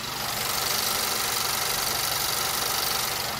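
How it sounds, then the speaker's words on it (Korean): A Honda Accord engine idling steadily and close up under an open hood, a smooth, even mechanical hum with a faint regular ticking, no voices. "굉장히 정숙하고 규칙적인 엔진 사운드 들려주고 있고요"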